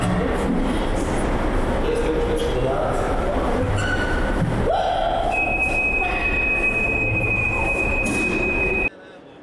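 Train at Zaragoza station in Spain, a loud rolling rumble with long, piercing wheel squeals, one steady high squeal holding through the latter half, with voices mixed in.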